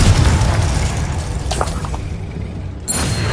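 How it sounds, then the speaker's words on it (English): A Confringo spell explosion in the video game Hogwarts Legacy: a loud, dense blast that fills the clip, with rumbling booms and scattered crackling debris, and a fresh burst near the end. "Confringo!"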